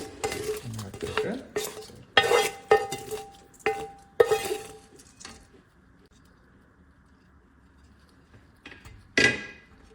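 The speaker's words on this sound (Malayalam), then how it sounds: "നന്നായി ഒന്ന് ഇളക്കി യോജിപ്പിച്ചാൽ നമ്മുടെ മോരുകറി തയ്യാർ" A spoon stirs Kerala moru curry, a yogurt curry, in a pot, with bursts of clinking and scraping against the metal separated by quieter gaps and a final clatter near the end.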